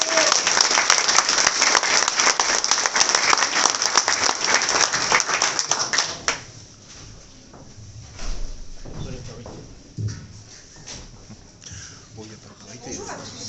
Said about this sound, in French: Je vous demande d'applaudir Sophie Lorenzo